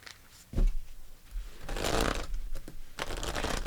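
Tarot cards shuffled by hand to pull an extra card, two close riffling bursts of rustling paper after a soft tap, with no voice.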